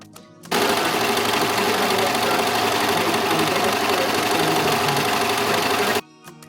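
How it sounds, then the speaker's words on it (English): A serger trims and stitches fabric strips in one steady, loud, buzzing run of about five and a half seconds, starting and stopping abruptly. "I'm serging 2 sets of strips."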